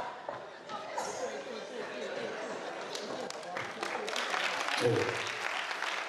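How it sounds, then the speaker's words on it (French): Lively applause from a comedy show crowd in a French-speaking venue, clapping mixed with chatter and cheers, growing louder toward the end while voices talk over it. "Applaudissements pour Blanche Morou et Poncho"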